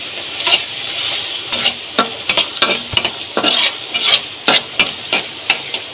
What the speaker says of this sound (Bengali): চিংড়ি মাছ দিয়ে কচু শাক রান্না করব আজকে। কষানো হতে থাক।